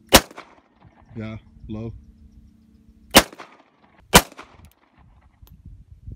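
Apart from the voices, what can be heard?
gunshots from a semi-automatic gun being fired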